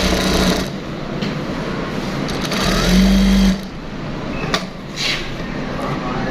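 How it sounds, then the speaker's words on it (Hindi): Juki DD industrial sewing machine running after a shuttle timing adjustment, a steady loud mechanical hum and rapid stitching whir throughout, with a brief louder surge midway and light handling knocks. "अब हम सिलाई निकाल कर आपको चेक करवाते हैं कि हमारी टाइमिंग बिल्कुल ठीक हो गई है"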